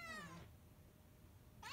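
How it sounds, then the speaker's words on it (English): A cat meows twice, a drawn-out call at the start and another beginning at the end, close and clear with quiet in between. "Stop meowing."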